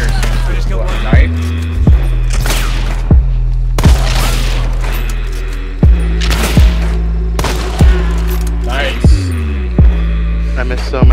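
Gunshots in the video game Seven Star Hunter fire as about a dozen loud, sharp cracks at irregular intervals, each with a quick booming tail, over a low steady hum.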